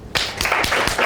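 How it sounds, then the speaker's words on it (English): A short burst of applause from a property investing Q&A audience, starting abruptly after a brief quiet moment, with a few distinct loud claps inside a dense wash of clapping. "Round of applause."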